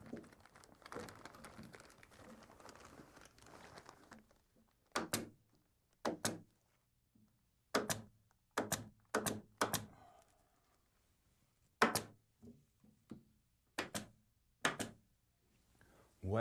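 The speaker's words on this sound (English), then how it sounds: "what I've done here is staple the top part of this plastic to the wood frame that I built" Staple gun firing staples through black plastic sheeting into a wooden frame, about a dozen sharp, close snapping thunks in uneven bursts after a few seconds of rustling plastic.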